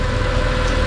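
Mercedes-Benz W211 E63 AMG with the M156 V8 running steadily at idle, a loud, close, even rumble with a deep low throb and no talking.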